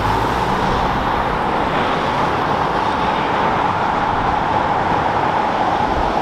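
Liberty Walk wide-body Nissan GT-R R35 at full throttle, a steady loud roar of engine and road noise held at constant level throughout, with no talk.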